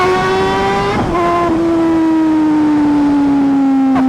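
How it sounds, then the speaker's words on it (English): A motorcycle engine revs close and loud, a sustained whine slowly falling in pitch with a few sharp blips as the throttle is blipped, with no voices over it. "This bike sounds so good"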